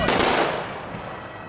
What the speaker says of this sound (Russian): Почетный караул произвел оружейный салют в память о погибших защитниках